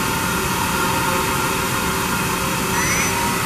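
A Mori Seiki NT6600 lathe spindle running at 2500 RPM gives off a steady, loud, broadband whir with a faint high tonal whine, constant throughout and with no talk.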